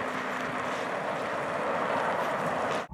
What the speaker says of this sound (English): I'm driving on an ice lake in an Aston Martin.